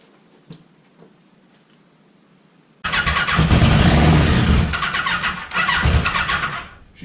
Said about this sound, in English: That motor sounds good. She's got that telltale whine I like